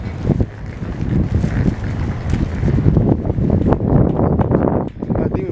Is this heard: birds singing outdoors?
no